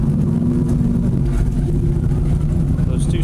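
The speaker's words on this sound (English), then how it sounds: "Those 270s, like a 350 gas motor, both sitting there running, started right up, nice and smooth." A fire boat's twin 350-type gas engines idle together with a steady, smooth low rumble and droning hum, loud and close, while a person talks over them.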